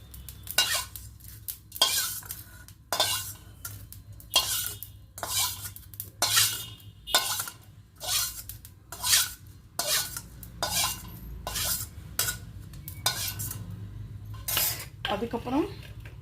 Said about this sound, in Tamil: பொரியிற சவுண்டு கேட்குறது பார்த்திங்கன்னா அவ்வளோதான்.